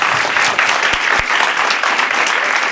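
A large audience claps loudly and steadily in dense applause that fills the whole short stretch without a break.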